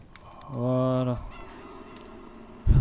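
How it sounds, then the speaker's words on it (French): A rooster-like crow, one harmonic call of about half a second, rises from the background of the horror video game Crisol: Theater of Idols, followed by a thump and low ambient game noise. "Le petit bruit de coq derrière."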